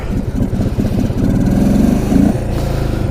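A small Yamaha Breeze mini quad's engine runs in snow, a loud, close buzzing putter that climbs into a brief rev and then settles back to a rough idle.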